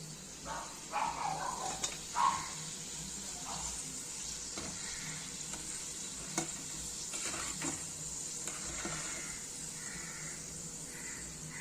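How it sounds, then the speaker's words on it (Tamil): Snake gourd chips fry in hot oil with a soft, continuous hiss and light bubbling. A few faint clicks and clatters of handling occur early on, and the whole sound stays fairly quiet with no voices. "இது மாதிரி நம்ம எல்லாத்தையும் பொறிச்சிட்டு உங்களுக்கு காமிக்கிறேன்"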